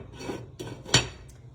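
A spoon scrapes and clinks against a pot while chicken and dumplings are ladled into a bowl, three soft rasping scoops close by, the last one sharper.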